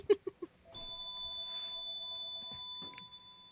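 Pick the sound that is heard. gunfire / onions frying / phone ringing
phone ringing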